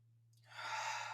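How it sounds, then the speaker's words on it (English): A soft, gentle breath exhaled during a teen yoga and meditation session, one smooth airy breath rising after a brief quiet pause and holding steady to the end, close and alone over a low steady hum. "Soft, gentle exhale."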